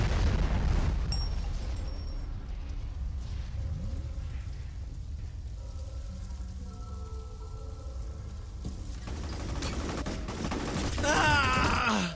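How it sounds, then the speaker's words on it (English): Grenade blast in the shooter game F.E.A.R., a low rumbling boom with a drawn-out roar and debris-like rumble, swelling again toward the end amid game noise. "Watch out! Grenade!"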